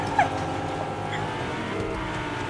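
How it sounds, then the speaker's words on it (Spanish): A car in the video game Fortnite drives along with a steady engine drone and faint tire noise, continuous and fairly loud, with a brief sharp chirp near the start. "Mira, escucho carro. Carro a la izquierda, viene."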